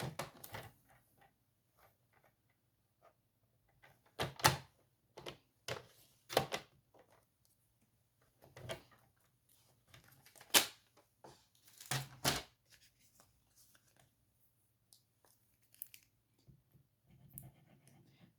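A strip of cardstock scrap being cut for a pop-up card, heard as scattered crisp clicks and sharp scrapes in short bursts, with quiet gaps between, close and alone in a silent room.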